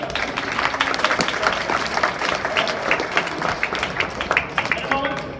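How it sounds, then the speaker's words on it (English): A crowd claps steadily for a man at a ceremony on a Memphis rooftop where ducks are ushered, dense applause holding at an even level with a few voices mixed in. "let's give him one more round of applause"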